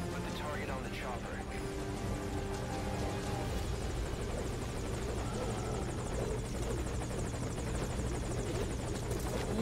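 Helicopter in the Metal Gear Solid Ground Zeroes video game, a steady loud rotor and engine drone filling the scene, with game voices talking over it.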